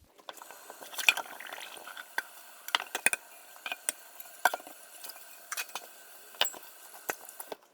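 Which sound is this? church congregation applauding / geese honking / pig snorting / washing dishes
washing dishes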